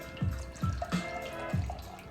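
Beer glugs and splashes into a glass in repeated pours, with bubbly dripping and fizzing between them. The sound is close and fairly quiet, and no one speaks.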